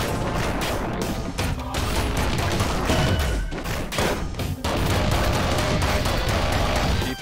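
Dense, continuous gunfire in the roguelike action game ScourgeBringer, rapid overlapping shots and crashing impacts at a loud, steady level throughout with no talking.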